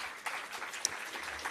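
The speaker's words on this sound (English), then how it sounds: "Please give them a round of applause." Audience applause at the launch of a public sector debate competition, steady clapping from a crowd with a few sharper claps, no talking.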